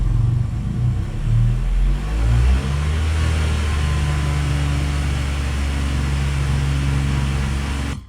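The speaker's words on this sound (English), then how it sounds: "you can actually turn up the speed of the engine and everything in real time" Synthesized car engine revving, with a low rumble that climbs in pitch and holds at a steady, loud drone for several seconds, alone with no talk.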